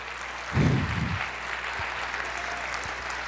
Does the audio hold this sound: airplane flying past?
no